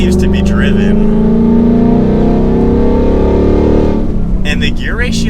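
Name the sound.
Ford Mustang Mach 1 engine accelerating on road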